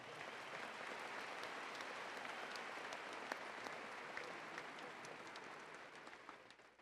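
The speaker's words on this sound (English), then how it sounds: "Let's give our platform party a round of applause." Sustained applause from a large crowd at a December 2014 university commencement ceremony, steady and even throughout, tapering slightly at the end.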